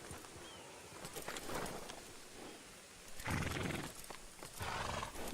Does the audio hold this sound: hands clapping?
no